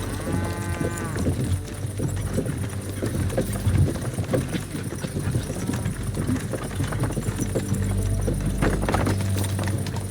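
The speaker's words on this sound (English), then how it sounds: "can't you make the horses go a little faster" Horses in the Kingdom Come Deliverance 2 video game clip-clop steadily along, their hooves a continuous close rhythm mixed with cart and ambient noise.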